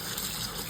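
Tap water runs over fresh cilantro being rinsed in a kitchen, a brief, steady broadband gush heard up close without speech.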